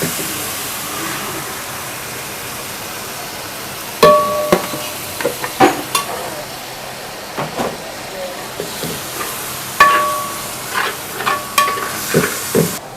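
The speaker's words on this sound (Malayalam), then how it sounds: "റെഡിയാക്കി വെച്ചിരിക്കുന്ന മസാല ഇടാം." Prepared masala for pork biryani is stirred into hot oil with garlic paste, curry leaves and green chilli, giving a steady sizzle broken by repeated sharp scraping and clanking of a spoon against the pan, with a voice talking over it.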